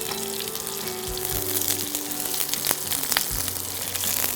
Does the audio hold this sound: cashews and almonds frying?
yes